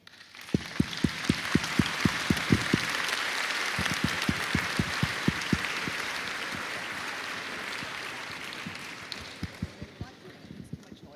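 Applause for graduates at a business school graduation ceremony, a broad sustained crowd clapping with a rhythmic series of sharp low thumps in time over the first half, gradually tapering near the end.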